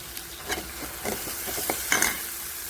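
Tomatoes fry in a pan with cumin seeds, chopped garlic and turmeric, giving a soft steady sizzle broken by several stirring scrapes, with no talk.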